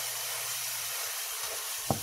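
Meat browning in a hot pan for tacos, giving a steady, close frying hiss and crackle with a single sharper pop near the end.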